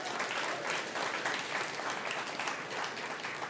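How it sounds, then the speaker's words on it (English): Audience applause at a food waste awareness event, a steady dense patter of many hands clapping throughout, fairly distant and even. "Give that a round of applause, please"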